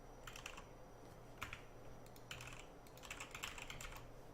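Someone types on a computer keyboard in short, soft bursts of key clicks, close but quiet, alone with no talking.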